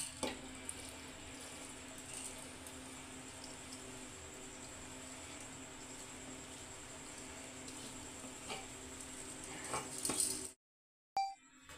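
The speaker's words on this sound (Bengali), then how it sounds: "এবার চালটাকে মাংসের সাথে হালকাভাবে মিশিয়ে নিলাম।" Soaked rice being mixed into cooked mutton in an opened pressure cooker for pulao, a steady soft wet churning and scraping under a faint continuous background hum, ending abruptly with a brief pause.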